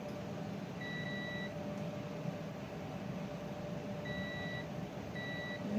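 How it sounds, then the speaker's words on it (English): Short electronic beeps sound while a Neotec NT 25e arcade monitor is tested on the bench: one beep, then a pause, then two more close together, each a clean tone over a faint steady hum. "Just listening for the beep."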